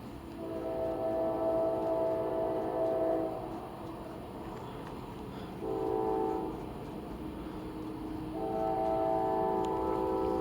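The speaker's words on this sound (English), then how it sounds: "Like, right before the train blew the whistle." A train horn sounds in three long blasts separated by short pauses, carried over a low, steady rumble of rail traffic.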